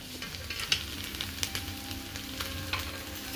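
Soybean roast sizzling and frying in a hot pan as it is stirred, a steady crackle with small scraping clicks from the utensil, close and fairly quiet with no talking.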